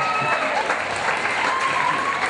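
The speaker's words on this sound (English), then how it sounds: "What about a round of applause for Tony, our croc hunter?" Crowd applause at a gala for Tony, a croc hunter, a steady wash of many hands clapping with cheers mixed in, continuous and fairly loud throughout.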